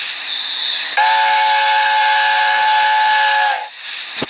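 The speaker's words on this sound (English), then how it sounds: "Let's go ahead and get that one little whistle." A steam whistle from an A4 Mallard locomotive in the Train Simulator video game sounds one long, loud, steady blast of nearly three seconds over a constant background hiss, then cuts off.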